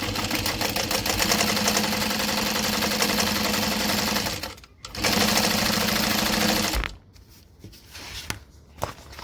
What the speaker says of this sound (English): top stitch across the top of the pocket.